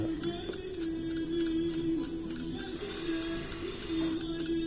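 Sewing machine stitching fabric in a workshop, a steady continuous mechanical whir with a sustained hum running throughout, close and fairly loud, with no talk.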